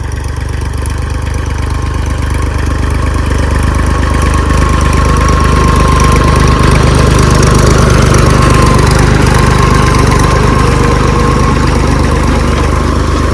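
A tractor engine drones continuously at close range during groundnut harvesting, a low, rough rumble holding an even pitch throughout with no voices over it.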